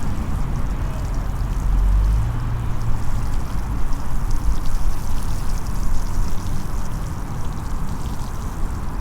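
Water poured steadily over seedlings of chamomile and alyssum in winter-sown containers, a continuous close splashing trickle throughout.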